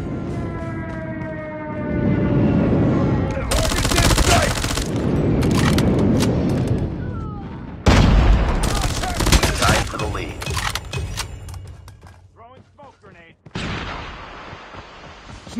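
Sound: airstrike and gunfire in Call of Duty Mobile video game

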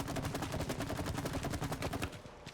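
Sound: gunfire in a video game

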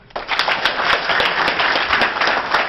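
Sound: audience clapping hands

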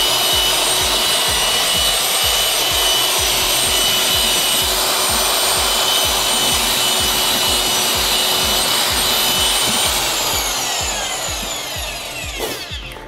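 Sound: low speed drill mixer mixing grout

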